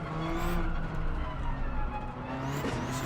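A Subaru 22B's 2.2-litre rally boxer engine in Gran Turismo 7 roars steadily with a gritty, buzzing drone and occasional shifts in pitch, loud and continuous throughout.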